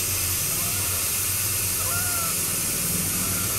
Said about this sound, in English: I'm going to release some of the air out of it as soon as I find a way